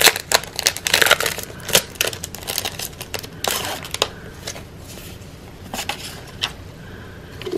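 Pressed flower and leaf sticker packaging is opened, with loud, close crinkling and crushing of plastic arriving in irregular bursts before settling into quieter rustles.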